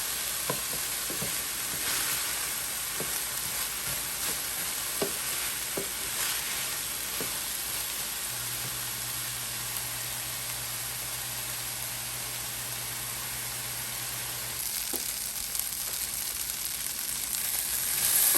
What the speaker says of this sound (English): So the carrots and the celery is gonna take a little bit of time to cook down.